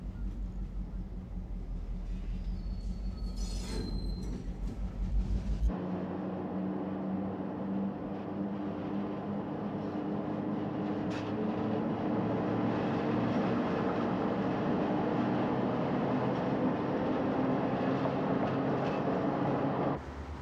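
A freight train led by a 6,000 horsepower set of F7 diesel locomotives, with two Y1 electric helpers cut in mid-train, rumbles past steadily and fairly close, a continuous roar with a brief higher squeal early on.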